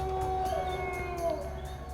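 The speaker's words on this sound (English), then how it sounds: "they heard wolves howling in the distance" Wolves howl in the distance on a dark woodland road, giving long, drawn-out tonal cries that rise and waver over a low, steady background.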